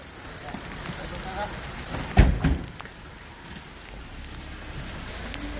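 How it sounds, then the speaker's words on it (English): Heavy tropical rain pours at night on a walk home from the beach, a steady close hiss that holds throughout, broken once midway by a short louder knock. "walking home from the beach, and it's pouring rain"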